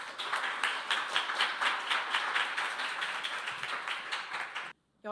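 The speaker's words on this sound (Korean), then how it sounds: "큰 박수 부탁드립니다." Audience applause at a youth speech contest in Seoul, a steady, dense wash of clapping hands with a regular rhythmic pulse, filling a hall for several seconds before cutting off abruptly.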